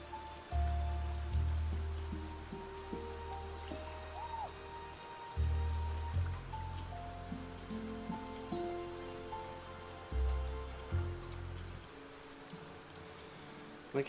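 Steady rain falling in a video game, a constant soft patter under layered low tonal game music, fairly faint, with no talk over it.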